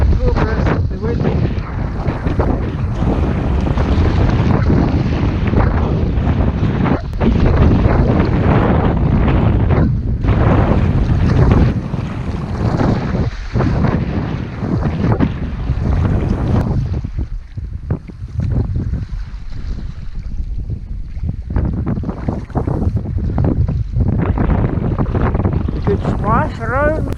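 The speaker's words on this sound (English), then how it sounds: "It's a bit windy today to make much progress with the wind." Strong wind buffets the microphone while a Valley Anas Acuta sea kayak is paddled on choppy water, a loud, rough, continuous rumble with gusty surges and faint water splashes.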